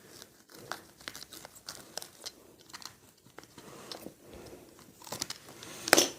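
An X-ray plastic sheet is cut up close for book binding, giving quiet, crackly crinkling and snipping noises in an uneven series that ends with one sharper, louder snap, with no voices.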